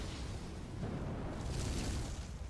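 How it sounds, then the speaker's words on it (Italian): A fireball spell cast at an enemy in Dark Souls 3's Ringed City, heard as a steady, loud roaring whoosh with a dense rumbling low end that swells slightly toward the end, with no talking. "gli sparo una palla di fuoco in fronte, così lo attiro"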